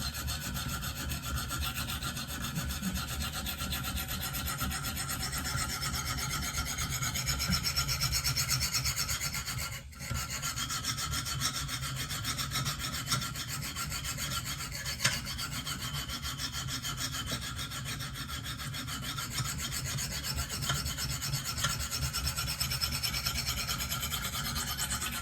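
A Benchmade Steep Country knife with an S30V steel blade is sharpened on a KME stone using light pressure, giving a continuous close scraping rasp of steady strokes with one brief pause partway through.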